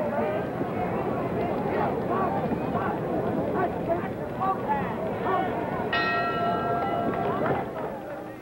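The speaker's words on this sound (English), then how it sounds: "You'll hear the bell in 10 seconds." A boxing ring bell rings to end round eight of a heavyweight bout, a bright clang heard late under a commentator's continuous talk and crowd noise from a televised fight.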